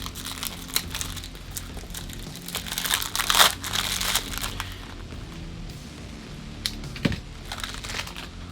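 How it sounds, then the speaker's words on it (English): Someone unwraps the packaging of a House of Sillage Batman 85th Anniversary fragrance bottle, making close, soft crinkling and crumpling. The rustling is loudest for a moment partway through, followed by lighter scattered handling noises. "I just thought you would want to get my first reactions on camera as I unwrap this"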